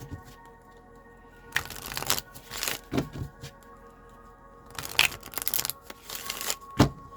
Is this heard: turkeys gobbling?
no